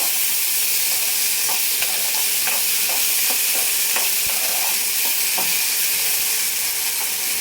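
Boiled sweet corn frying in oil in a pan gives a loud, steady sizzle and hiss, broken by occasional scrapes and taps of a spatula stirring the kernels.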